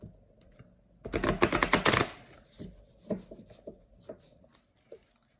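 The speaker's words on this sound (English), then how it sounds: "I decided to start shuffling on camera again because I have a soft surface here." A rapid burst of crisp riffling clicks, like cards being shuffled, followed by scattered soft taps and rustles on a surface.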